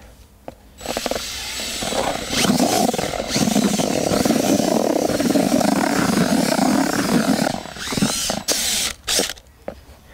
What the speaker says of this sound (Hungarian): fúrógéppel hatékonyabban haladunk.